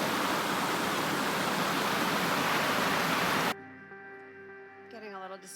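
Several waterfalls along a river in Zec Kipawa roar as a loud, steady broadband rush, which cuts off abruptly partway through to a quieter scene with a tonal voice.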